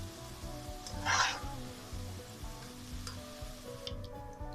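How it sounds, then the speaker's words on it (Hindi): Carrots frying in hot oil in a pan, a burst of crackling sizzle swelling briefly near the start, then settling into a low, steady fry under a soft background hum. "ये देखिए गाजरें फ्राई हो गई हैं"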